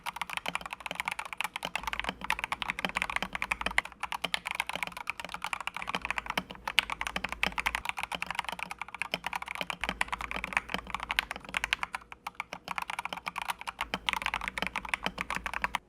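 Steady, continuous typing on a modded Gamakay LK67 wireless mechanical keyboard with lubed switches, retuned stabilizers and 2mm EVA case foam, giving dense rapid keystrokes close up with no talking.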